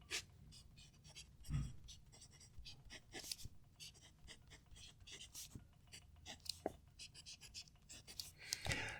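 A TWSBI Eco fountain pen with a medium nib scratching across Iroful paper, faint close strokes in short irregular bursts, very quiet throughout.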